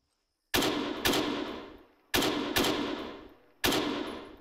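Gunfire in a military shooter, five sharp loud shots or short bursts at irregular intervals, each trailing off into a long echoing decay.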